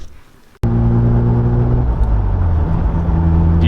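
A Mazda FD RX-7 with an upgraded turbo drives after a brief quiet moment, its engine suddenly droning loud and close with a steady rumble and shifting pitch as it accelerates, with no talk.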